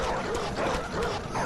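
A dog barks in the video game Bloodborne, a short burst of yips and bow-wows over dense game sound and a busy background.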